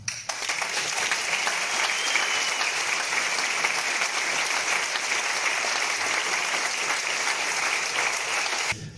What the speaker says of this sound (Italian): un applauso per il pubblico